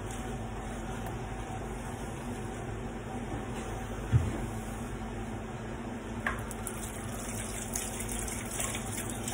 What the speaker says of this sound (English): Quickly rinse my hands off.